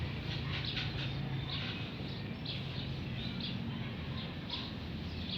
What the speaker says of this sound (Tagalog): Yan ang ating mga ibon mga kalapatids.